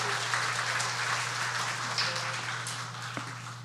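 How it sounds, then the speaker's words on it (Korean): A church congregation applauds steadily to welcome children receiving awards at a Sunday children's department ceremony, a dense, even wash of clapping over a constant low hum. "박수로 환영해 주십시오"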